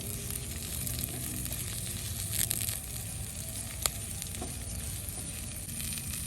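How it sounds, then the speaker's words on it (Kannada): Green chillies fry in hot ghee for hotel-style ghee rice, giving a steady broadband sizzle and crackle that runs throughout, with one sharp pop partway through and no voices. "ಈಗ ಎರಡು ಹಸಿ ಮೆಣಸಿನ್ಕಾಯಿ ಹಾಕ್ತಾ ಇದ್ದೀನಿ"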